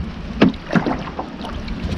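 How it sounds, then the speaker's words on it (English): Wind gusts buffet the microphone on a boat while bass fishing on Lake Russell, with low rumbling noise and a few sharp slaps and knocks of water against the hull, close and fairly loud. "Wind blowing."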